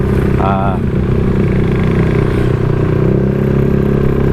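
Motorcycle engine droning steadily while riding through the city streets of Angeles City, Philippines, a constant loud rumble with faint traffic clatter beneath.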